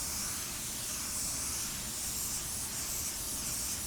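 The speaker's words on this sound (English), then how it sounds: "we're going to go ahead and spray it before we spray our clear, rather than after" Spray gun laying spot blender onto a car panel before clear coat, a steady close airy hiss lasting several seconds without a break.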